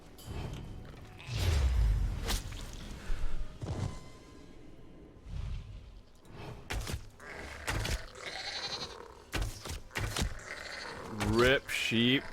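Sheep bleating in The Elder Scrolls Online, several short cries amid whooshes, thuds and other game effects, fairly close and moderately loud.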